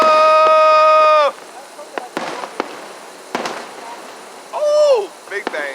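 Fireworks burst in a string of loud, sharp bangs with crackling tails, some whistling, close by under excited voices.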